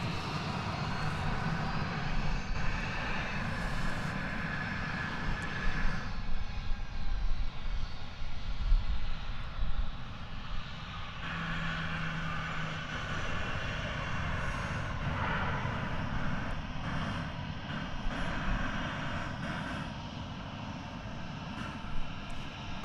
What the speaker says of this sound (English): In the meantime, we get a beautiful Dreamliner.